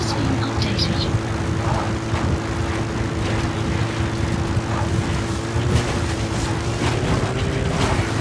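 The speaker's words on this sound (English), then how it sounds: "Please support helicopter requested." Support helicopter arriving in the Metal Gear Solid V: The Phantom Pain video game, a steady droning rotor hum with faint mechanical clatter holding throughout at even loudness, mixed with game sounds.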